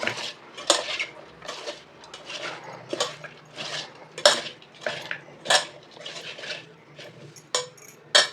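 Broccoli florets tossed with salt and chilli powder in a bowl, a spoon clinking and scraping against the dish in a steady run of close, bright hits with no talk.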